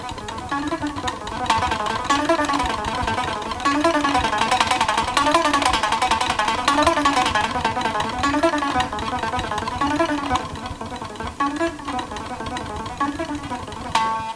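A guitar lick played repeatedly with different pick attack, from soft to moderate to hard, giving a continuous run of picked notes with a strong, bright and fairly loud tone.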